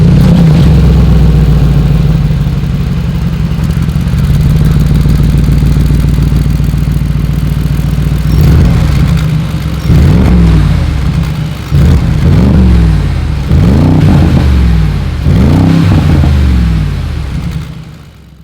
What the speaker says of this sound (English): these are side pipes.